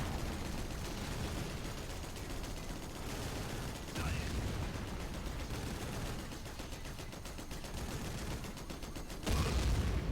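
Battle in the Rise of the Reds real-time strategy game, with mortar tracks shelling and Tomahawk strikes, giving dense continuous rapid gunfire and explosive bursts throughout, surging louder near the end.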